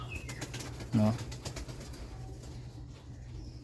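A pigeon gives a short, close coo over a steady low background hum, with faint bird sounds around it.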